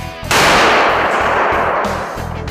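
A real pistol fires at a shooting club, with a single sharp crack followed by a ringing, echoing tail in the range.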